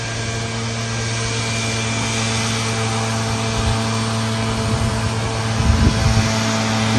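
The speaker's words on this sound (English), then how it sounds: "Literally walking right up on me with this leaf blower." Leaf blower running close by outdoors at a cemetery, a steady droning motor hum with strong low tonal bands, holding constant and swelling slightly louder near the end as it moves closer.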